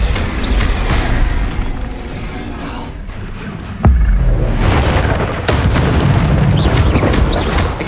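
A Bombarda blasting spell detonates in Hogwarts Legacy, a sharp heavy boom near the middle that rumbles over dense continuous game noise and clatter, with more bursts following.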